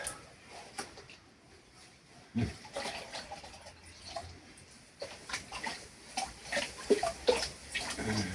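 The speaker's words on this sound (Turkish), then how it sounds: "Hatta şu pis suyu az bir şöyle akıtalım." Dirty water from a pan of construction sand is poured off while panning for gold at home, splashing and trickling in uneven bursts that grow louder toward the end, fairly close.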